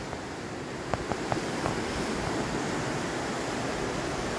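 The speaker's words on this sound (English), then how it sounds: "There's the river." A river flows beneath a short covered bridge in Cascadia, Oregon, a steady broad rush of water with a few light knocks early on and faint wind across the microphone.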